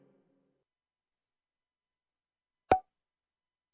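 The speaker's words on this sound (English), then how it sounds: "I made a little thing where things pop and you pop them with your mouse" A single short pop from a simple self-made mouse-clicking game rings out once after near silence, crisp and isolated.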